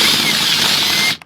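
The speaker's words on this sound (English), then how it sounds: "Now you just use your squared off drill bit to enlarge the hole above the screw slightly." A squared-off drill bit enlarges the hole above a screw in deck timber during deck demolition: a loud, steady, close whine of drilling that runs for about a second and then cuts off abruptly.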